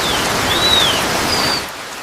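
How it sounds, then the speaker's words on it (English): Heavy rain in a forest, a loud dense hiss of pouring water with a faint bird whistle rising above it, dropping slightly in level near the end. "When heavy rain arrives, the forest changes quickly, and every shelter becomes important."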